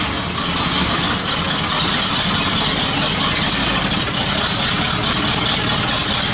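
A freshly swapped V8 idles in a Briggs Body T-bucket hot rod just after its first start, a continuous rough rumble mixed with dense broadband noise, steady and loud throughout with no talking.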